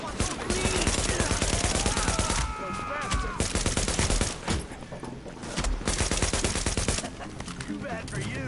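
Bursts of automatic gunfire in The Division video game, sustained rattling volleys broken by short gaps, loud and close, with game voices and music-like tones mixed in.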